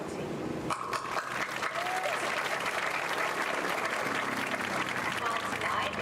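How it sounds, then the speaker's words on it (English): An audience at the 2025 Holdenville High School graduation breaks into sustained applause, with dense clapping and some crowd murmur starting abruptly and continuing steadily. "But not before I give a round of applause to my family,"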